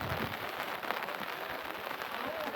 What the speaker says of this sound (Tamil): குளுமையை அதிகரிக்க வைக்கும் மழை